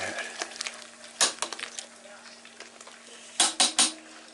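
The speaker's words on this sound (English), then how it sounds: "Let's give it a stir" A spoon stirs wort in a metal brewing pot during a Kölsch brew day, giving scraping swishes and several sharp metallic clanks against the pot, with no talk.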